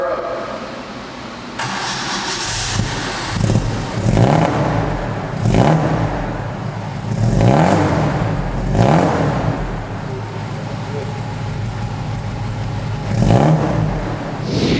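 An old Alfa Romeo Giulietta barn find starts up and runs, its engine rising and falling in repeated revving swells over a steady idle, close and loud throughout.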